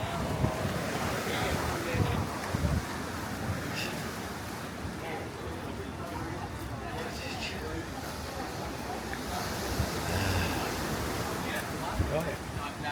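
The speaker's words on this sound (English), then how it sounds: "Look at this wave here." Ocean waves surge and break on Manly beach in a steady, loud roar thick with wind buffeting the microphone, while people chat nearby throughout.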